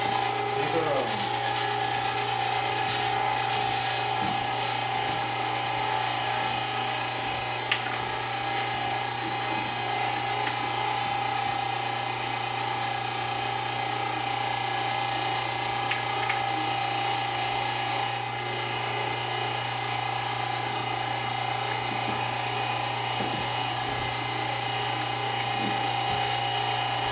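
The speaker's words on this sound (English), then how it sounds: "Let's get into it and grind this up." A meat grinder works sausage meat for jalapeño cheddar sausage, a continuous mechanical whir and grinding hum with a steady low drone and faint scraping, running without pause throughout.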